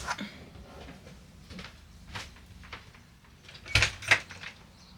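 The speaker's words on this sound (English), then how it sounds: "I think I'm gonna open the door." A door is opened indoors, giving two short, sharp knocks or clicks close by in an otherwise quiet room with a faint background hum.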